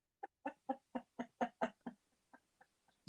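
A chicken clucking in a run of about a dozen short, evenly spaced calls that start loud and grow fainter toward the end, heard alone with no talking.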